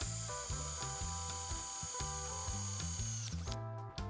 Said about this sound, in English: on a piece of pipe, start a drill